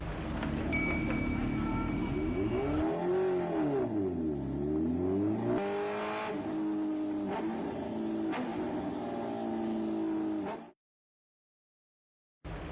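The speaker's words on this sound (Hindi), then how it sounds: "वाह भाई अहमद, कमाल की बाइक है" A heavy motorbike engine revs loudly in an animated cartoon, its pitch sweeping up and down in long swells over a steady drone before cutting off abruptly, followed by silence.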